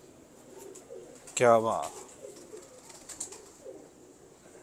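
Nerooron pigeons give soft, low coos in the background while a man briefly exclaims over them nearby.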